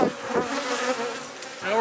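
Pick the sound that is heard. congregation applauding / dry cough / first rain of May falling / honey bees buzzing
honey bees buzzing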